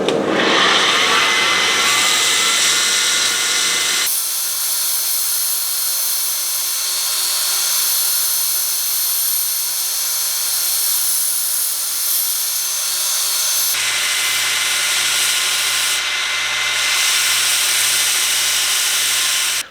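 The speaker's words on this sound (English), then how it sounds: "I'm going to come over here to the belt sander and put a couple of edges on this." A belt sander grinds edges onto a forged WWI-style French nail knife, a loud continuous whirring abrasive roar close by that shifts in tone as the blade presses against the belt and then eases off.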